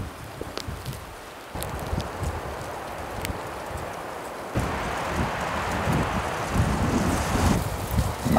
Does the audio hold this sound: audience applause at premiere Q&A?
no